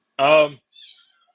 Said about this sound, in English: I think I've got a kitty that might be a little bit sick.